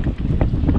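Strong storm wind blusters against the microphone while kayaking, giving a loud, rumbling, gusty roar that fills the whole brief moment.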